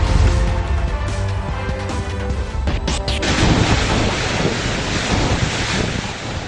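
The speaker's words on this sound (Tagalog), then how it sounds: "Nakabibingi ang lakas ng hangin sa Gonzaga," Strong, roaring typhoon wind in Gonzaga, Cagayan, during Typhoon Ofel batters the microphone in a constant broadband rush, with surging gusts and a brief sharper burst around the middle.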